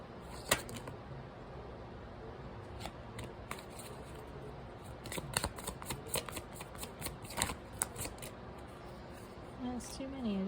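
Slippery tarot cards are shuffled in soft, papery riffles and flutters that come and go in a quiet room, with someone talking over parts of it.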